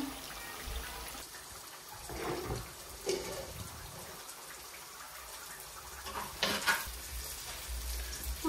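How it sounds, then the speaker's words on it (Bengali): Onions fry in a pan for Sylheti meat pilau with cinnamon, a steady close sizzle broken by a few louder bursts of stirring and scraping, with no talk. "আর এদিকে পেঁয়াজটা ভাজ হয়ে যাক"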